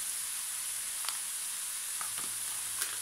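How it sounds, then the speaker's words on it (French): Meat and vegetables searing in a hot pan for a budget bolognese-style dish seasoned with ras el hanout give a constant bright sizzle, with a few faint utensil taps over the steady hiss. "Là, le but du jeu, c'est de saisir la viande."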